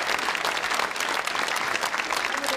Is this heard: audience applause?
yes